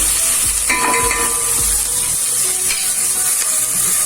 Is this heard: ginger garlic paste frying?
yes